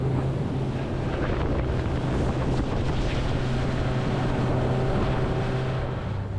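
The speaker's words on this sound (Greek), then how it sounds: "θα ταξιδέψουμε ψιλογρήγορα γιατί είναι λάδι θάλασσα" A heavily loaded fishing boat runs fairly fast across a calm sea, a steady, loud engine drone blended with continuous wind buffeting the microphone and a rush of water.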